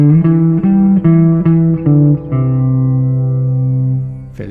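Pentatonic raga phrase on guitar, a few plucked notes joined by smooth slides between strings, ending on a long sustained note that fades, alone and close.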